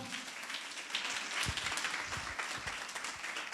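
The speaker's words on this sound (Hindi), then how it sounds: "जोरदार ताली बजाओ।" A church congregation at a Friday youth gathering claps loudly, dense overlapping hand claps with some sharp individual smacks and crowd murmur underneath, steady throughout the short burst.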